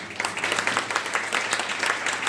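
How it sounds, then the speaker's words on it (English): Brief applause from the audience at a play school's annual results event, a steady patter of many hands clapping at moderate volume, a bit rhythmic in places. "a big round of applause to all the boys and girls of Wilson's Play House"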